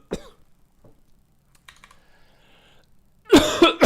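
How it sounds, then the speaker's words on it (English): A man coughs hard several times in a loud burst near the end, after a few faint clicks and quiet room noise. "the coughing, it never stops"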